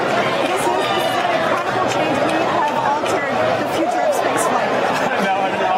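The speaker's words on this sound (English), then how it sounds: "You can tell the crowd is very excited here in Hawthorne, California." An excited crowd at a SpaceX launch event in Hawthorne, California fills the space with loud, continuous cheering and babble, a dense wall of voices with occasional shouts rising above it.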